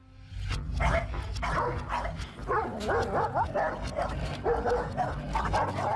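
A reactive mini bull terrier snarls and barks in repeated agitated bursts at a larger dog on a walk, close and loud, with whimpering yips mixed in.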